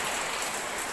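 Steady heavy rain driven by typhoon winds at night pours down close by in a dense, unbroken hiss, with no voices over it.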